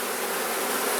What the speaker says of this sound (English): So there do seem to be a pretty good number of bees in here